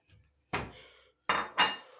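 A few sharp ceramic clatters: a soft knock, then two louder clinks as a plate is picked up among dishes in a kitchen, with short pauses between.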